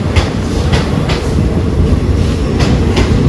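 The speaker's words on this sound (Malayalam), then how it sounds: "ട്രെയിൻ വന്നു" Loud, close rumble of a train arriving along the tracks, with rhythmic clicking of wheels over rail joints repeating every half second or so.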